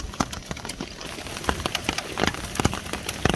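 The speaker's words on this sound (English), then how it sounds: "It is now hailing." Irregular sharp ticks and taps of small hail strike a surface at a campsite in Glacier National Park, scattered and quick, over a soft background hiss.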